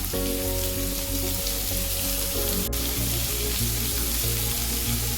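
Steady, close sizzling of onions and chillies frying in hot oil, a dense crackle that runs without pause and no voices.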